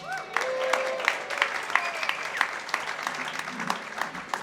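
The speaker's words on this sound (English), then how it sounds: "let's go ahead and give them a round of applause first" Indoor audience at a panel discussion on farming and climate change applauds the panelists, a steady patter of clapping at moderate distance, with faint voices mixed in.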